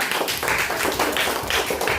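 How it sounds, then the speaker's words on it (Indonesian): Classmates applaud their peers in a classroom, a steady wash of clapping from a small group that lasts throughout, moderately close with no talk over it. "Berikan tepuk tangan untuk kawan-kawannya"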